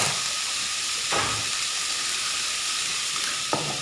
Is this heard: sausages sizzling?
yes